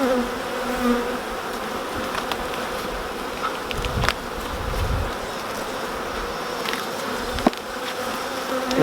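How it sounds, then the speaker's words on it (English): Honey bees forage in and out of a beehive, a dense, continuous buzzing hum close by, with individual bees droning past now and then. "there's a lot of foraging bees in and out"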